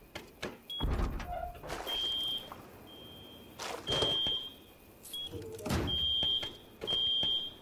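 A home security alarm in the video game Rust sounds off with repeated bursts of a steady high electronic tone, separated by short gaps and heavy thuds. No one speaks.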